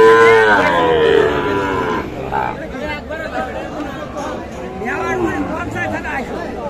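A Sahiwal bull calf moos loudly and close at a busy cattle market in Mymensingh, its low drawn-out call rising over crowd chatter and voices talking nearby.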